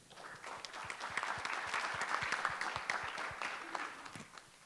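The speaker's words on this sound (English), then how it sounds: "So please, a round of applause for you." An auditorium audience claps in steady, dense applause at a documentary screening and panel event, moderately distant and fading slightly at the end.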